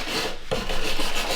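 A scraper drags across charred wood on a carved distressed sign, a close, gritty rasping rub with a short break midway before it resumes in quick strokes.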